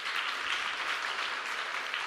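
Church congregation clapping during a Sunday worship service, a steady dense wash of hand claps filling the room at even loudness throughout, with no voices over it.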